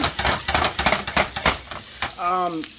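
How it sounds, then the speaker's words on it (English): Garlic frying in butter in a pan, with a steady sizzle broken by repeated scraping and stirring clicks from a utensil, close and fairly loud, ending with a brief whistling tone. "And we got the garlic going."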